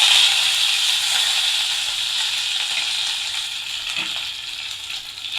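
Curry leaves dropped into hot oil already crackling with mustard seeds, cumin, fenugreek and a broken dried red chilli for pepper rasam, giving a steady, loud, close sizzle and hiss that fades slightly over several seconds.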